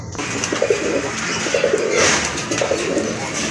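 Pigeons coo in repeated soft, throaty bursts close by, a male and female pair of Gola pigeons, over steady background noise.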